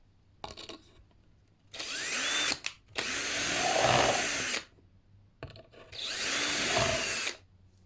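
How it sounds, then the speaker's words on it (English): An electric drill bores into wood in three separate bursts, each a few seconds long with a rising whir and grinding bite, short pauses between. "As long as you sort of keep your drill, you know, at 90"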